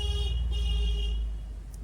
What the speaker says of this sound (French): Vous entendez le klaxon?